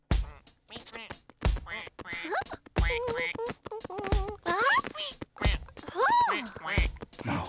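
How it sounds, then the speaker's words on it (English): A cartoon duck quacks repeatedly in short, bright, nasal bursts across the scene, loud and close, with cheerful children's-show voices and music alongside. "Oh, Maisy, are you being a duck?"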